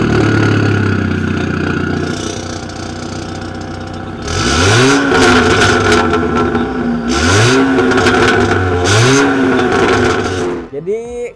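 A VW Scirocco R turbo engine fitted with an Armitrix exhaust revs hard in three loud, rising bursts after a quieter idle, with people talking underneath throughout.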